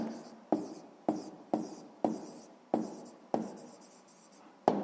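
A pen writes out the answer to a sixth-grade math exercise on paper, close up, in a steady run of distinct scratchy strokes, each starting with a sharp tap and then trailing off.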